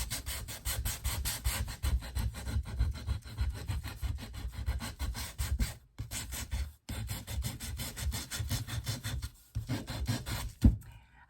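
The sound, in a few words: sanding wood edge with a sander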